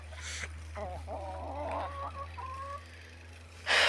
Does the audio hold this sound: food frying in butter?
no